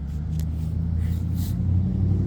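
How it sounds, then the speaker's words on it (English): A car rumbles past at close range, a loud steady low engine drone that holds for a couple of seconds with a faint hiss of tires on top. "A car."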